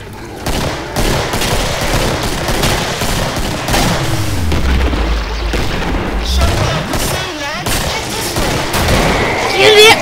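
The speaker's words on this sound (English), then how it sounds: "Oh, grenade." Rapid bursts of gunfire and a deep grenade blast in the co-op shooter Killing Floor, loud and dense, with sustained automatic fire and a rumbling low boom midway.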